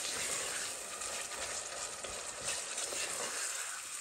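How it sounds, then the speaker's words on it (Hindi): Chicken mince sizzles and fries in a pan with browned onions for a cooking dish, a steady broad hiss throughout with occasional stirring, close and fairly loud with no talk. "अब हम इसमें कीमा डाल देते हैं।"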